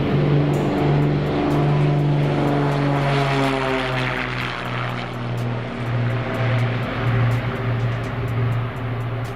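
Loud droning twin propeller engines of a Beechcraft Baron with a pulsing, slightly beating hum that shifts in pitch as the aircraft passes nearby.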